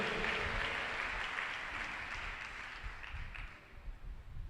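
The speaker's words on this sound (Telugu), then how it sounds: "కొట్టు చప్పట్లో హలెలోయ్యా" A church congregation claps together in a dense, continuous burst that fades somewhat toward the end, heard from a moderate distance with no talk over it.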